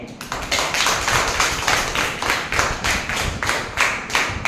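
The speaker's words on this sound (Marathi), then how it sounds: "कनिकासाठी जोरदार टाळ्या वाजल्याच पाहिजे." Sustained applause from a crowd at a school ceremony for a young performer, dense hand claps with steady rhythmic surges, loud and continuous throughout with no voices over it.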